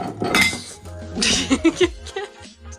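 Cooking gear and sourdough supplies in a kitchen cabinet clattering close by, a short burst of bright metallic and glassy clinks and knocks, with a few sharper ringing taps.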